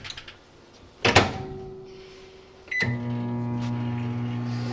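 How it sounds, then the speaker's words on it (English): A door clicks shut with a couple of beeps, then a microwave oven starts up with a steady low hum that continues. "Put it in a bowl, a heat-safe bowl, so it can go in the microwave."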